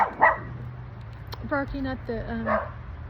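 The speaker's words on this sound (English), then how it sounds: "I'm so distracted with these dogs. They're just all over the place, barking at the" A few short dog barks and yips at moderate distance, a burst in the middle and another near the end, with a voice speaking briefly between.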